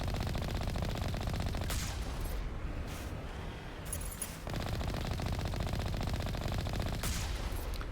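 Sustained weapon fire in Mass Effect 1 Legendary Edition, a steady, fairly quiet rattling stream of shots with brief gaps and occasional sharp bursts, heard without any talking.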